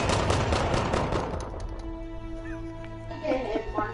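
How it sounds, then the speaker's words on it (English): A Battlefield V machine gun fires a dense, rapid rattling burst up close that tapers off after about a second and a half, leaving lingering ambient tones and scattered distant shots. "machine gun firing on us"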